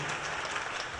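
A congregation at an evening church service claps for the praise team, a fairly faint, steady patter of many hands sustained through the moment.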